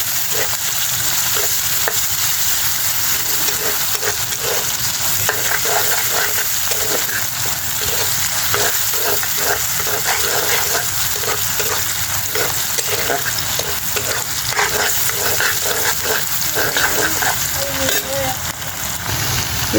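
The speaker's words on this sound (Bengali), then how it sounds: "আজকে শাক বাগার দিব কাঁচা মরিচ আর পেঁয়াজ দিয়ে" Green chilies and onion fry in hot oil as a tempering for greens, making a loud, dense, continuous sizzle with faint utensil clicks and no voices.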